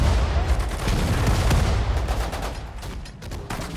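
Dense gunfire and explosions from the WWII strategy video game Sudden Strike 4 during an assault on anti-tank guns, with continuous overlapping bursts and booms at steady loudness.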